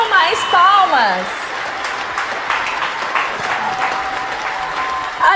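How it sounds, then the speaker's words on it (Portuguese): A small home audience claps for a juggling and ball-balancing circus act staged in a house, a lively patter following a voice, with talk over it. "Batam mais palmas."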